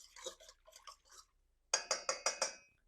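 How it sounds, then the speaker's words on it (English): Wet sourdough ingredients whisked in a bowl with a whisk or fork, two bursts of quick metallic clinking strokes, the second a rhythmic run of five or six brisk taps. "I'm going to use this whisk or fork to do that before I add in the flour"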